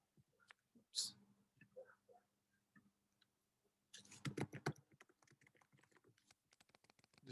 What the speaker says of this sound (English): Just typing her a message real quick.